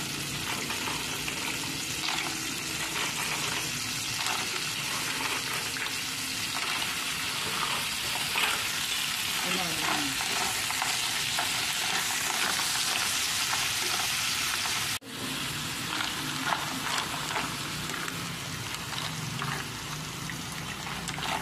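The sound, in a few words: mussels frying in a pan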